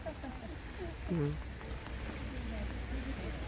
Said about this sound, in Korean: 지금 비가 오고 있고요. 어, 조금만 올 줄 알았더니 그래도 잔잔한 비가 많이 내리네요.